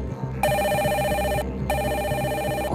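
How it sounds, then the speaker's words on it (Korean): A telephone in a police detectives' office rings loudly in two long electronic bursts with a short gap between them, over a low steady background bed. "깜짝이야. 유치장에서 걸려온 전화야."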